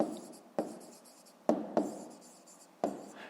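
Pen or marker strokes on paper while a fifth-grade math exercise solution is written out, five sharp scratchy strokes at irregular intervals, close and fairly quiet, with no talk.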